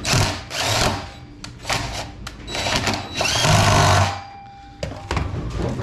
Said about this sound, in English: there's 16 of these screws on this roller, and we're just gonna start fastening them in.